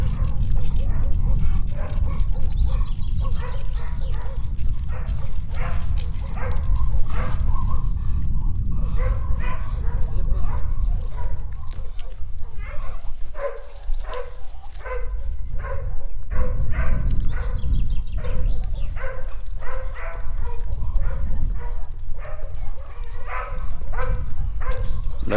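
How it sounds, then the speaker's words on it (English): Several dogs bark repeatedly in a village street in Klisura, Bulgaria, loud and close, with overlapping yaps continuing steadily against steady outdoor background noise. "Yeah, you're gonna hear a lot of dogs barking."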